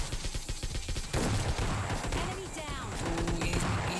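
Rapid gunfire from a PUBG Lite duo-versus-squad match rattles in dense bursts, with a pause near one second before heavier shots and game effects continue, all under steady background game noise.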